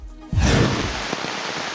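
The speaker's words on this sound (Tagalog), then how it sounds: "Bumuhos ang malakas na ulan sa Barangay Payapa sa Tagkawayan, Quezon, bunsod ng Bagyong Christine" Heavy rain pours down during Typhoon Christine in Barangay Payapa, Tagkawayan, Quezon, bursting in as a sudden dense hiss after a quiet start and then holding at a steady loud roar with no speech.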